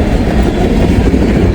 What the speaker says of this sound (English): This is a transfer or a regular old train.